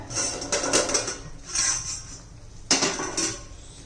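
A metal lid comes off a cooking pot of bottle gourd curry with several sharp clanks and scrapes of metal on metal, close and bright, and nobody speaks.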